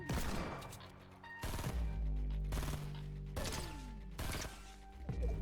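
Burst-fire gunshots in Fortnite, with several sharp clustered volleys of rapid cracks separated by short pauses, loud and close over a low ringing game background.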